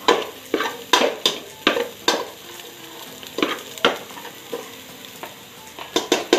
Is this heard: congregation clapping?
no